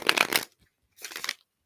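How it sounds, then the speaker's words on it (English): Oracle cards being shuffled by hand, two short riffling bursts separated by a brief pause, close and crisp with no talk over them. "I'm going to just shuffle these cards for a second."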